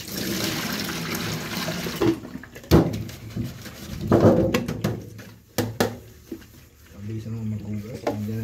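Water runs and splashes during rinsing, a steady flow first, then scattered pours and sloshes while someone talks nearby.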